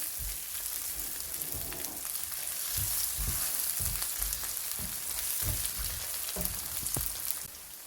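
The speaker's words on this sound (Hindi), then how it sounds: "उसको भी 2 मिनट तक हम इसके साथ फ्राई करेंगे" Onion frying in oil with whole tempering spices for karela chana daal, a dense, steady close sizzle broken by repeated soft thuds and scrapes of stirring, fading slightly at the end, no talking.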